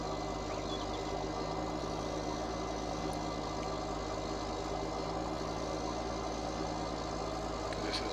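A heavy tractor engine in the video game Farming Simulator 19 labors uphill in a steady low rumbling drone, bogging down and straining continuously without any change in pace.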